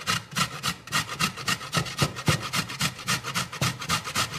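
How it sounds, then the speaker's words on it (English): A raw beet is scraped over a grater in fast, steady rasping strokes, loud and close with an even back-and-forth rhythm and no talking. "So you just start grating"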